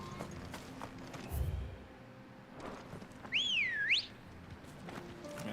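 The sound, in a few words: loud whistle in Final Fantasy XVI video game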